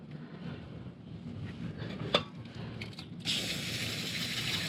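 Chlorinated brake cleaner sprays from an aerosol can onto Honda PCX150 CVT transmission parts, a sudden steady hiss starting partway through after a sharp metallic click and light handling noises.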